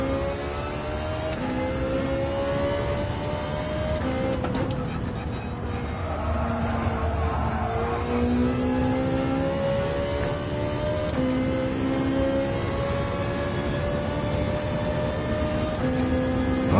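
A race car engine in the video game Gran Turismo 7 drones and revs steadily throughout, its pitch rising and dropping in smooth sweeps as gears shift, with no talking.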